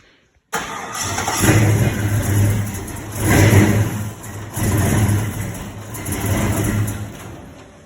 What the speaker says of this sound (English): That was just showing a little clip of it trying to crank before we mess with the tune.